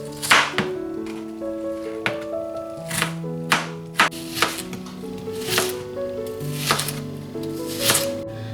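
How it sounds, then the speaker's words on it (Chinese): Onion being chopped into small dice and chunks on a cutting board, a series of crisp knife thuds at an irregular pace, close and distinct over soft background music, no talking. "洋葱分为2部分，一部分切小丁，一部分切块"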